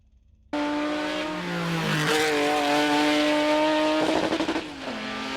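The loud engine of the Supervan 3 bursts into life and revs hard, its pitch climbing and wavering, then settling into a heavy, close roar.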